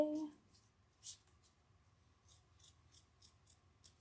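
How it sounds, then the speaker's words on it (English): Scissors snip through the fabric of a squishy cow stuffie in a series of quiet, close cuts spaced irregularly, faint and alone after a brief opening sound. "I can't trim and talk at the same time."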